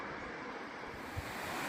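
Water of the Aparima River rushes continuously on a cold morning, a soft broadband wash mixed with light wind noise, fairly faint and steady with one small bump.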